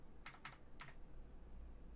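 Three quick, faint keystrokes on a computer keyboard, a pair close together and then one more, as a phone number is entered, over a steady low background hum.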